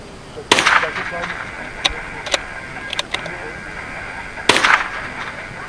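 Rimfire rifle shots at a precision match in a quarry with animal-shaped targets: two loud sharp reports with ringing tails plus several fainter distant cracks and clicks, spaced irregularly over an otherwise quiet background.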